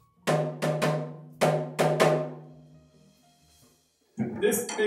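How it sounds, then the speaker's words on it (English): A Japanese Uchiwa Daiko fan drum is struck in a short sequence of sharp, resonant hits with ringing decay, the beats spaced unevenly, followed by a brief pause and then a voice talking. "It's called an Uchiwa Daiko and it's from Japan."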